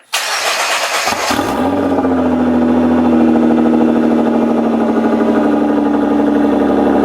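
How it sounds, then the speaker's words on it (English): A Nissan GT-R engine cold-starting: a short starter crank, then a loud catch and flare of revs that settle into a steady, high cold idle, close and alone. "which means a cold start in the GT-R"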